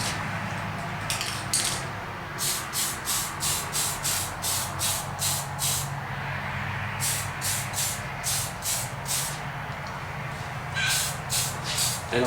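Tamiya dark yellow paint sprayed onto a model corn silo in quick regular bursts, a string of short airbrush hisses over a constant background hum, pausing briefly and resuming.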